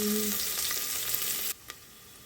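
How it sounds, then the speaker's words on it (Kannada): Onions fry in oil in a pan with a steady close sizzle, a brief stirring scrape partway through before the hiss drops to a quieter simmer. "ಈಗ ಈರುಳ್ಳಿ ಹಾಕ್ತಾಯಿದ್ದೀನಿ"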